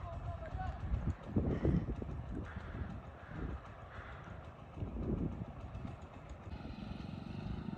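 Motorcycles on a Ladakh tour push through a stream, an engine labouring with a rough, churning roar that swells in bursts and then settles, amid splashing water and faint voices in the background.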